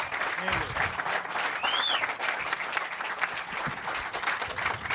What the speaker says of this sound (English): One more round of applause, Mr. Lee Trevino.